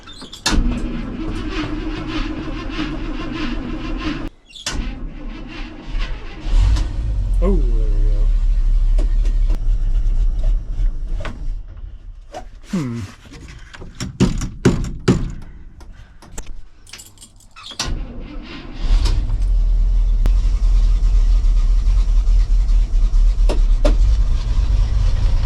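An old Case 580C backhoe engine turns over and catches, then settles into a loud, steady low rumble. Keys jingle and brief speech come before it.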